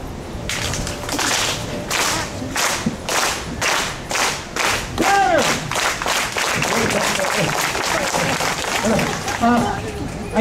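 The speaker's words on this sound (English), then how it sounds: "On my cue, big clapping beat!" A crowd claps in unison to a steady rhythmic beat, loud regular sharp claps repeating about twice per second, with a voice talking and calling out over the clapping.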